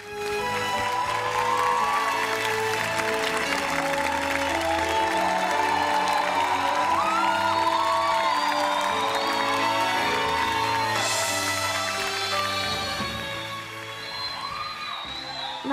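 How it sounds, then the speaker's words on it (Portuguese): Close, sustained audience applause with scattered cheers and whoops at a concert, building and holding steady before tapering near the end. "Por favor, vamos aplaudir."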